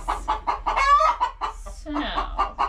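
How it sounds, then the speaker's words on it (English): Broody hens cluck in a steady run of short, close, repeated clucks with a few longer squawky calls mixed in, no talking over them. "Hens right now because they're broody and I keep stealing their eggs."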